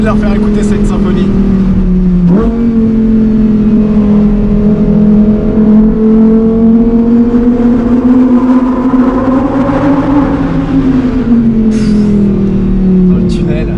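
A Lamborghini Huracan Performante S accelerating in a tunnel, its loud engine note stepping up after a brief shift and climbing steadily, echoing in the enclosed space.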